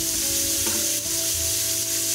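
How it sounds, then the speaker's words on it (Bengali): 600 grams of chopped cabbage hits hot oil in a pan with ginger paste, giving a loud, steady sizzle and crackle that holds evenly from start to finish. "এখন আমরা এই গরম তেলের উপর কেটে রাখা 600 গ্রাম পাতাকপি যোগ করে দেব"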